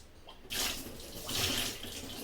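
Water rushes and sloshes in a cooking vessel in a home kitchen, starting abruptly after a quiet moment, then swelling and easing in two close, loud surges with no talking.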